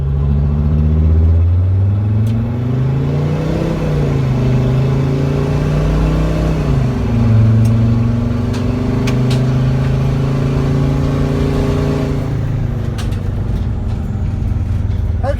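A Mercedes Sprinter van with a turbo, muffler cut off, accelerating hard on a narrow back street: a loud steady engine drone with rising and shifting tones heard from inside, continuous throughout.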